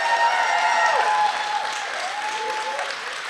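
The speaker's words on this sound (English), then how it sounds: "Could everybody just give a round of applause to Jeff Darnell?" Audience applause at a spring graduation ceremony in Nashville: steady, dense clapping from a large crowd that fills the whole stretch and fades slightly toward the end, with a voice briefly heard underneath.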